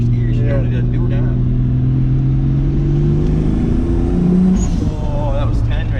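A truck with a Supra engine, turbocharged with a new intercooler setup and running 22 lbs of boost, pulls hard in first gear, its loud engine note climbing steadily in pitch before easing off near the end.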